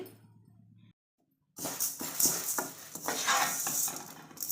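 Toor dal lentils dry-roasting over a low flame in a pan, stirred with a spoon that scrapes and rattles them in quick bursts after a brief silence.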